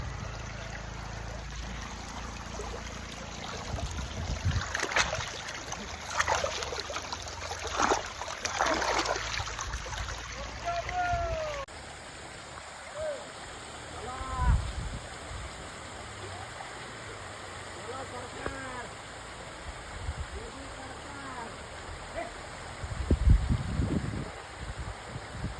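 A flowing stream beside rice paddies where hands and feet are washed, steady trickling water with bursts of splashing and sloshing from movement in the water, moderately close.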